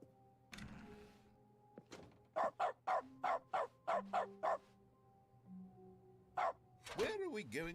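Repeated game dog barks from a clicked dog mode ring out in a rapid run of about nine sharp yips, with a few scattered barks before and after, over soft background tones and a thump near the start.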